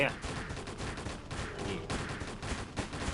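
Rapid gunfire from the online game Ragnarok Online Classic, fired at monsters during a boss dungeon run. The bursts repeat dense and steady for the whole stretch, mixed with other game effects.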